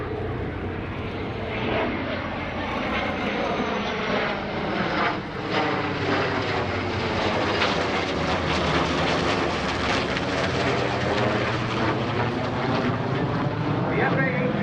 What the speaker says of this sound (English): with the two F414 engines on the Super Hornet